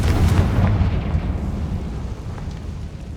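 Confringo fire spell blasts in the Hogwarts Legacy video game, a loud booming explosion at the start that rolls off into a lingering rumbling decay.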